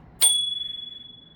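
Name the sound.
bell on Segway Ninebot F40 kick scooter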